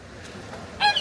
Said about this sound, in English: There we got chickens and a goose who's interested in us